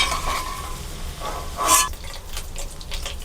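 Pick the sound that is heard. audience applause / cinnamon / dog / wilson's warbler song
cinnamon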